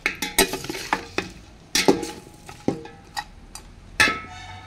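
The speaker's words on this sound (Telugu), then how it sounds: "ఇప్పుడు పాయ కూడా ఇందులో వేసానండి. ఈ మొత్తాన్ని ఒకసారి కలుపుకుందాం." A ladle stirs mutton paya in a metal cooking pot with a handful of sharp, spaced clanks and scrapes over a light sizzle of oil, close and fairly loud, with no talk.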